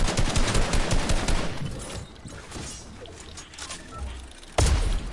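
Rapid bursts of automatic gunfire in a shooter video game, loud and close at the start, fading to quieter scattered shots before a sudden loud blast near the end.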